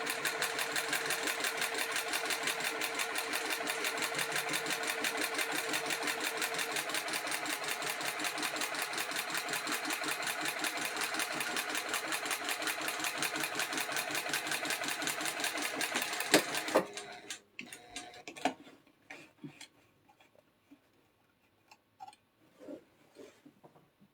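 A sewing machine top stitching a quarter-inch seam, a loud steady rapid needle rhythm running for about seventeen seconds, then stopping, followed by scattered clicks and handling sounds.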